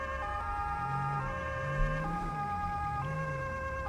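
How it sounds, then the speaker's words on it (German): A German police Martinshorn siren in the video game GTA V, its two-tone wail alternating steadily and loud throughout with faint engine rumble beneath. "das Martinshorn, also das, was ihr gerade zum Beispiel hört"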